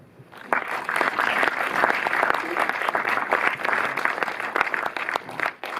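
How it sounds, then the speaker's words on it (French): Cinema audience at a post-screening discussion applauding the film's distributor, clapping that swells quickly and holds steady at moderate volume, tapering slightly at the end. "on peut même applaudir le distributeur montreuillois du film"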